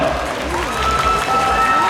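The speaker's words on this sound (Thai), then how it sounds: "เสียงปรบมือมาแล้ว" An audience at the ANELLO brand launch event applauds as an executive is introduced, a continuous crowd clapping under a presenter's amplified voice.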